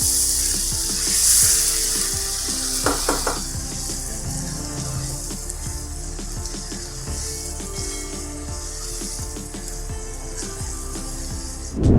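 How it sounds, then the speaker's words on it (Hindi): Beef shinwari karahi frying in a pan with whole green chillies, a steady loud sizzle of hot fat that keeps up throughout, with occasional light clinks and stirring sounds and no talking. "अब इसको तकरीबन हमें 5 मिनट तक फ्राई करना है।"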